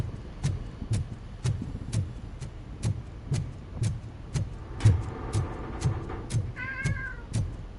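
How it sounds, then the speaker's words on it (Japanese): A pet cat meows repeatedly for food in a steady rhythm of short, close calls, with a faint higher chirp near the end and no talking. "うちのにゃんこがご飯って呼んでるな"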